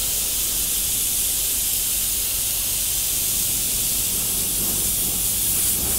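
An airbrush sprays paint over a template in a continuous, even hiss that stays steady and close throughout, with no voices.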